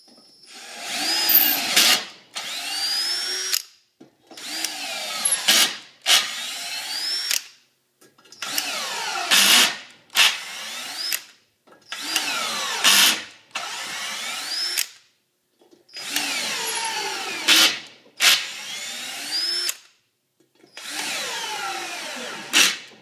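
A cordless drill taps M10 x 1.5 head bolt threads into an engine block, running in about nine loud, close bursts of a few seconds each, separated by short pauses, with no talking.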